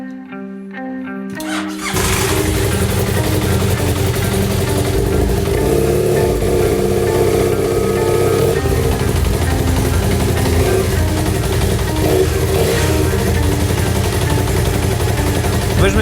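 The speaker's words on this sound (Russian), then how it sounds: "Друзья, он завелся. Но работает как-то громковато, я бы сказал." A worn BMW 800 GS motorcycle engine catches after a short quiet start and settles into a loud, steady, somewhat rough idle that runs close and uninterrupted.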